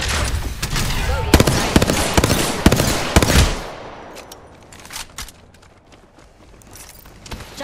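Rapid bursts of close gunfire in the battle royale game Apex Legends crackle in quick volleys, then fall away to quieter scattered shots and faint mechanical clicks.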